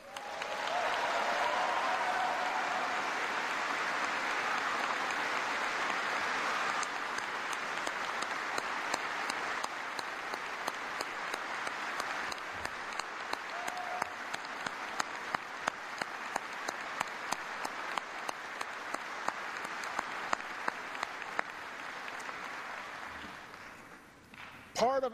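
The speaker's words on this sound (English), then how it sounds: "let us give a heartfelt round of applause for every military family that has carried that load over the last 9 years" A large audience at a troop-withdrawal event applauds military families with sustained, dense clapping that holds steady for over twenty seconds before tapering off at the end.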